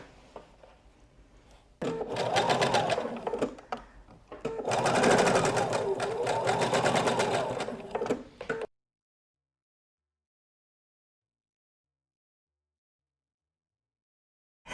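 A sewing machine runs along a seam on a fabric bread bag in two bursts of steady, fast stitching, with a short pause between them, then falls silent.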